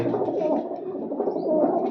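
Pigeons of several breeds kept for sale in Bathinda coo in low, steady, overlapping calls close by, filling the space without any speech.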